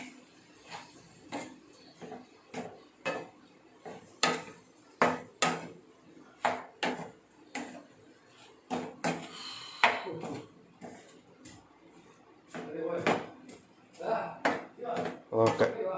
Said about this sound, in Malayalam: നല്ലോണം ഇളക്കി.